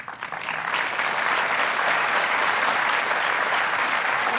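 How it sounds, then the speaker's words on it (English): Loud, sustained applause from a large commencement audience, steady and dense throughout with no talking over it. "let's give her a loud round of applause for France"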